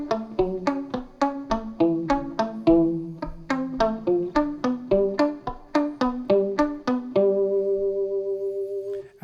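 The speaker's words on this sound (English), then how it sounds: "I thought, well, it'd be cool to have a little vibrato effect on here." An electric guitar through a Boss CE-1 vibrato pedal picks a steady arpeggio of single notes with a gentle wavering pitch, ending on a held, shimmering chord.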